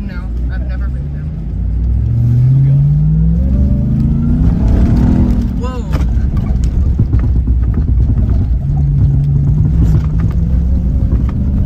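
A stock Ram TRX pickup's engine revs at a state fair, a loud deep rumble rising in pitch as it climbs, then settling and revving again, with people talking over it.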